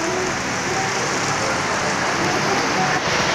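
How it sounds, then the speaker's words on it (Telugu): Heavy rain pours steadily near Srisailam Dam, a dense, constant hiss of drops hitting surfaces with no break in intensity. "వర్షం మాత్రం భారీగా పడుతుంది."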